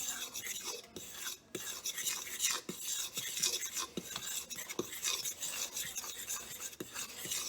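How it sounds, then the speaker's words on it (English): A whisk scrapes and clinks rhythmically around a bowl of dry ingredients for whoopie pies, steady close rasping strokes with small metallic taps and no talk. "I'm going to give this a quick whisk and get these all incorporated in here"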